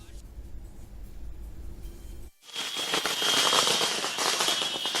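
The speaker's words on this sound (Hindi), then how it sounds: "आरजेडी के दफ्तर के बाहर आप देख सकते हैं पटाखे जलाए जा रहे हैं" Firecrackers set off outside the RJD office in Patna on Bihar election result day 2020, a sudden dense burst of loud crackling pops after a quieter stretch of street noise.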